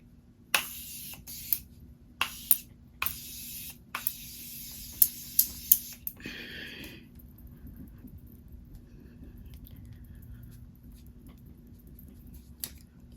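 Makeup setting spray spritzes in a series of short, sharp pumps, several in quick succession at close range, followed by quieter handling noise.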